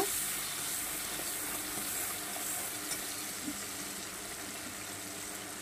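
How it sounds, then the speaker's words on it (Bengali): Ground ginger and fennel paste with two green chillies frying for a biulir dal: a faint, even sizzling hiss throughout with a couple of soft stirring knocks, no voices. "তো এটাকে আমি সুন্দর করে এবার কষিয়ে নেব"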